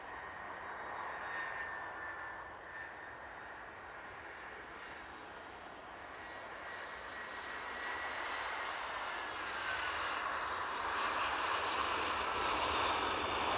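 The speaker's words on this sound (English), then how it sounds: "EasyJet shortly to get into shot." An EasyJet airliner passes during evening plane spotting, its jet engines a steady broadband roar that slowly swells louder over several seconds, with no one speaking.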